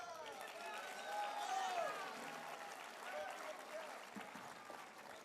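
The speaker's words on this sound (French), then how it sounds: "On les applaudit bien fort." Audience clapping fills a gala show, a steady wash of applause from a crowd with faint chatter mixed in.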